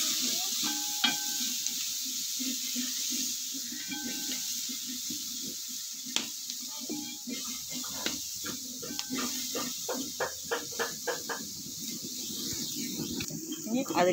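Green chillies sauté in a pan for coconut rice, with a soft continuous sizzle, light scraping stirs and a run of quick ladle taps near the end, over faint insect-like background noise.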